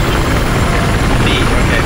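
A helicopter in Battlefield 4 hovers nearby with a loud, continuous rotor and engine roar filling the whole moment amid multiplayer combat.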